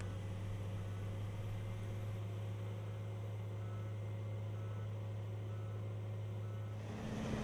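A John Deere K Series 4WD loader with an empty bucket backs up a slope, its engine hum steady and fairly distant under faint high reversing beeps.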